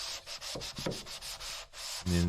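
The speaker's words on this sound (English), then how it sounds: "my hand sander is quite skinny, it gets into all these little tight areas" Short rhythmic strokes of a skinny hand sander scrub across drywall plaster, near and brisk, ending in a brief hum, with a voice speaking briefly.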